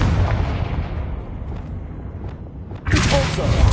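Confringo explosion spell in a video game, a heavy rumbling boom with a roaring blast that fades, then a second bright burst hits sharply near the end, loud and close.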